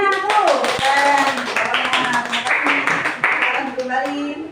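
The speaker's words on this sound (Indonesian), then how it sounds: "Tepuk tangan semuanya anakku." Brief clapping in a classroom for a student group presenting during an Islamic education lesson, scattered hand claps mixed with children's voices and chatter throughout.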